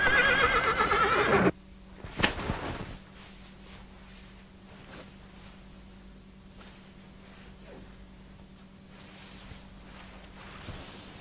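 A horse whinnies loudly and alone in the opening second and a half, a bright rising-and-falling neigh, followed by a few soft thumps and a quiet, steady background hum.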